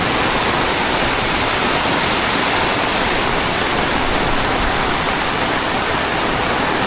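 Heavy rain pours steadily over an open-air cattle market at Kochukhet, a dense, unbroken hiss that stays loud and even throughout with no voices.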